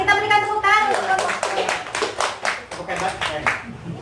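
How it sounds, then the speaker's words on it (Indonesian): Group clapping in a training session after a presenting group finishes, a steady run of sharp claps with a voice talking over the start and some child-like voices mixed in. "Kita berikan tepuk tangan untuk kelompok."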